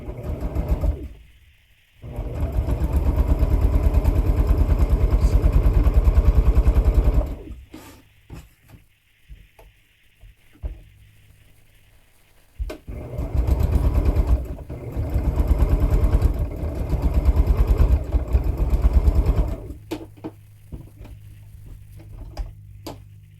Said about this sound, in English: Now I'll stitch those right down the middle.